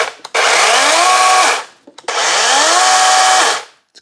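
A DeWalt 20V MAX XR 12-inch cordless battery chainsaw revs in two loud, close bursts of about a second and a half each, a steady high motor whine and chain buzz rising then winding down, with a brief pause between runs.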